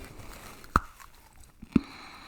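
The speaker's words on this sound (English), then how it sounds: "It definitely doesn't have a Kit Kat crunch. It has a crunch though. It's very quiet though." Bites into a crunchy Feastables quinoa milk chocolate bar, giving two short, quiet crunches about a second apart, close and alone with no talking.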